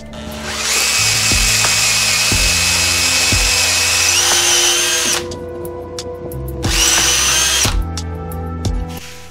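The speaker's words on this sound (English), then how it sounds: "I drilled a little access hole so I can pop it out easily." A power drill bores an access hole 1 inch deep into wood, whining loud and close in two long bursts that are split by a short pause.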